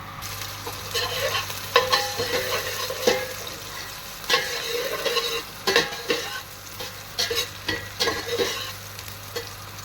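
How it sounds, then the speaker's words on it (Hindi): Rice fried in a pan for mutton yakhni pulao, stirred continuously: repeated scraping and clattering strokes over a constant sizzle and a low steady hum, close and fairly loud, with no speech. "इन्हें घुमा घुमा के फ्राई करें, वरना ये एक जगह से ही फ्राई होंगे"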